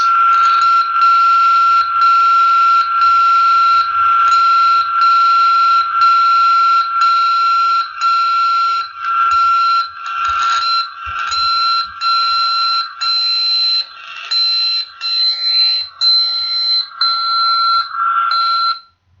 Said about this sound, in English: So that's 60 kilohertz WWVB.